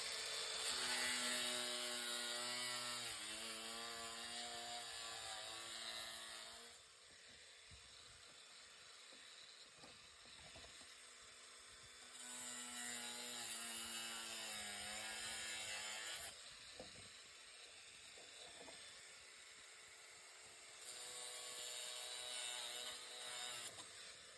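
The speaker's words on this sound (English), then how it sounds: "It's a Chamfer Tool for saw pipes." A chamfer tool grinds and cuts at the end of a drainage pipe in bursts, a steady whining rasp that runs for several seconds, pauses, then starts again, close and fairly loud.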